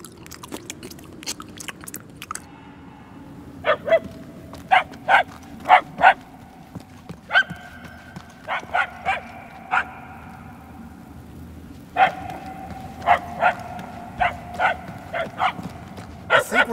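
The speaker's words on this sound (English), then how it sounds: "The barks are getting louder, at least." A dog barks repeatedly in Marvel's Guardians of the Galaxy video game: a series of sharp, clear barks in irregular bursts over a low background hum, growing somewhat louder and more frequent toward the end.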